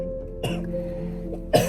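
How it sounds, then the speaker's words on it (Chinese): One person coughs twice inside a car, each a short, harsh, close burst separated by about a second of quiet cabin hum. "咳嗽了"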